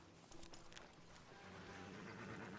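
Horse hooves clip-clop at a steady walking pace in Red Dead Redemption 2, moderately close and continuous over a low rumble of game ambience, with no voices.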